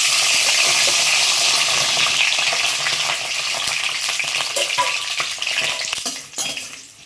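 Loud, continuous sizzling of eggplant frying in hot oil, with occasional stirring clinks and scrapes toward the end.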